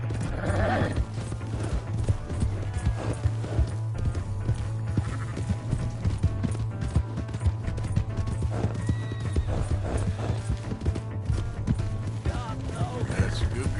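A horse's hooves clip-clop rapidly through a Red Dead Redemption 2 scene, beating steadily under background music with occasional whinnies and shouted voices.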